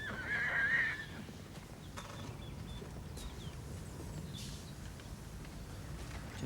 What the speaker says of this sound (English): Did you guess? It's a horse.